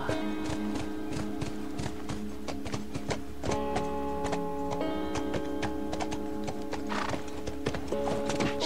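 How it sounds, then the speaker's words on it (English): A horse gallops in the video game The Last of Us, with a steady rapid clip-clop of hooves, close and clear, over sustained tonal game music. "Why would I want to dismount the horse? This is fun."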